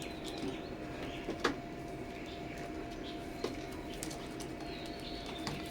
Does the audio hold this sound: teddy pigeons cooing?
yes